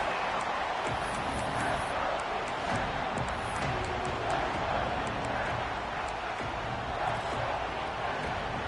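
A large football stadium crowd roars in a dense, sustained wash of noise from many distant voices, steady and loud throughout, with a faint mix of speech underneath.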